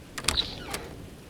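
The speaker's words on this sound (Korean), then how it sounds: "나는 서둘러 그 안으로 몸을 밀어넣고 조심스럽게 문을 닫았다" An old wooden wardrobe door eases shut with a short creaking, mechanical squeak and a soft close, heard alone and up close.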